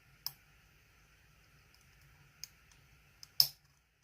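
Pins inside a DOM ix 10 lock click as it is picked: three or four sharp, isolated ticks spaced over a few seconds against near silence, with the last one loudest.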